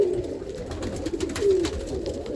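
Roller pigeons coo softly and continuously in a breeding loft, low murmuring calls rising and falling close by with faint background rustle.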